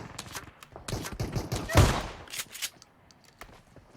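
Shotgun blasts from a video game pop in a quick irregular burst, several sharp loud reports clustered mid-clip with one heavier boom, over faint game background noise.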